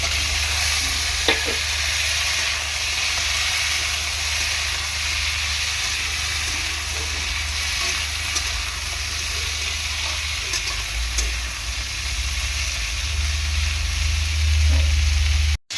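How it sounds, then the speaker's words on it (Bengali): Bitter gourd pieces fry lightly in a pan, producing a steady loud hiss and sizzle with faint stirring clicks throughout, stopping abruptly at the end. "উচ্ছেটা প্রথমে হালকা করে আমি ভেজে নেব, তারপর আমি আলুটা ভেজে নেব"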